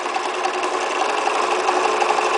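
A domestic sewing machine runs fast and steady on zigzag stitch during free-motion appliqué, a continuous whirring buzz that carries alone without any voices.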